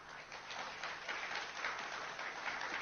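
An audience at the Manama Dialogue security conference applauds in a dense, fairly faint wash of clapping from a large hall, sustained and even throughout.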